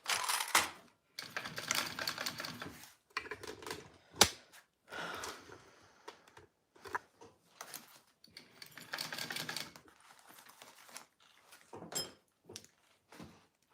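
A sewing machine bastes a zipper onto a purse in short stop-start bursts of fast mechanical stitching, separated by brief pauses and a few sharp clicks, with no talking.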